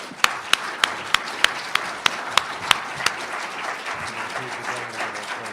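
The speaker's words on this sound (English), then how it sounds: "Let's give them a round of applause, please." Applause for panelists at a regional transit governance forum, with a few sharp, loud claps standing out near the start before the crowd clapping fades into murmur.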